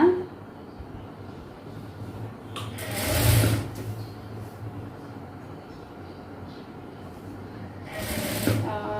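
A sewing machine stitches a blouse in fairly quiet bursts, with a louder whirring run around the fourth second and another near the end.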